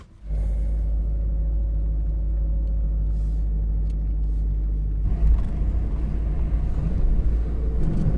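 A car driving along, a steady low engine and road rumble heard from inside the cabin, loud and constant, growing rougher and noisier partway through as the road surface or speed changes, with no one talking.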